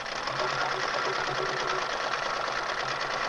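A sewing machine stitches appliqué around fabric daffodil flowers on a spring wreath quilt block, running in a steady, continuous whir that stays loud and close for the whole stretch.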